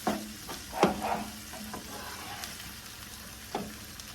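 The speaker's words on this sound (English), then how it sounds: "this is a pound of bacon we're frying up here" A pound of bacon fries in olive oil on a griddle, a soft, quiet sizzle broken by a few scraping stirs and light utensil taps.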